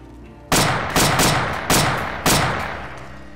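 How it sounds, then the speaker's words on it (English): Five heavy gunshots from a DayZ firefight crack out at a slow, uneven pace, each loud and close with a long reverberant tail that fades before the next blast. "That's our shooting."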